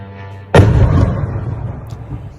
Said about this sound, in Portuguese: foi uma explosão grande ali